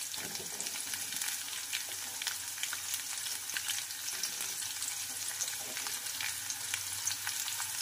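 Chopped onion frying in a pan until pink for a spicy Maharashtrian roasted-eggplant bharit, a steady dense sizzle with faint crackles throughout, close and moderately loud, no speech.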